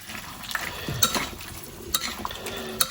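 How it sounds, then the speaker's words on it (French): Brazilian vinagrete salsa, chopped vegetables in a bowl, being mixed with a tablespoon, close wet squelching and stirring with repeated light clinks of the spoon against the bowl, no talking. "On va s'armer d'une cuillère à soupe. Et là, on va mélanger."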